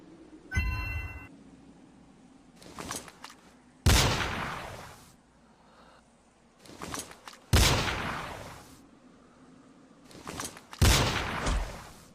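Gunshots in a bird hunting video game: four loud, sharp blasts spaced a few seconds apart, each with a long decaying tail, plus a few quieter pops and a brief chime between them.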